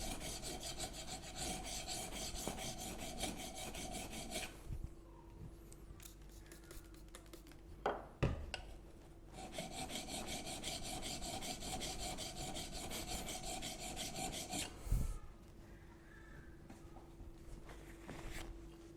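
The steel back of a chisel being rubbed flat on a sharpening stone, producing steady, close rasping strokes in two long passes separated by brief pauses and light knocks.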